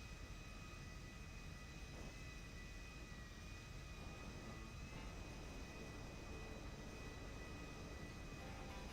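Aircraft engine roaring through a takeoff roll in the SuperRP flight game, a steady, loud, dense rumble with a thin high whine held throughout and no voices.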